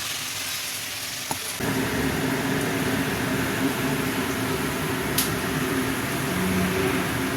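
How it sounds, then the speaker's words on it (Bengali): Poppy seeds are ground into a paste: after a brief click, a steady, loud whirring grind starts up and continues without a break, carrying a low motor hum. "চলো এবার একটু বেটে দিই"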